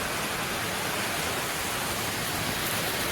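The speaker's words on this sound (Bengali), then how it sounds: "বাবা কিরকম বৃষ্টি হচ্ছে" Continuous loud rain driven by wind fills the evening air outdoors, a dense even roar of water without pauses or voices.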